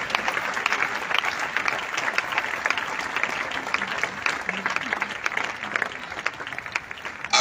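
Congregation at a church service applauding loudly and steadily, a dense wash of clapping hands sustained throughout without pause.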